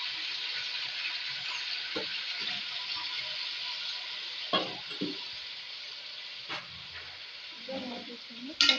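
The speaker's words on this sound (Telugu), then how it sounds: "నూనె అయితే వేడెక్కింది. ఇప్పుడు చికెన్ వేసుకుందాం." Chicken pieces frying in hot oil, giving a steady, even sizzle throughout with occasional clatter of stirring and a few scattered louder bumps near the end.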